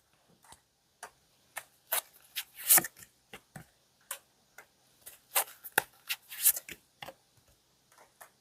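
Tarot cards being drawn and shuffled, with sparse, close crisp flicks and rubs of card stock in irregular bursts and quiet gaps, no voice.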